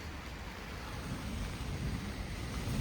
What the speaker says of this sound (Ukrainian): Вітер такий, що просто капець. Та дуже сильні пориви вітру.